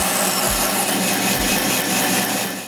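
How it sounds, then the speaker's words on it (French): A band saw cuts through the last side of a wooden tenon with a loud, continuous whirring blade noise and a rasping edge as it bites into the wood, with a couple of low thumps underneath. "Je coupe le dernier côté du tenon avec la scie à ruban."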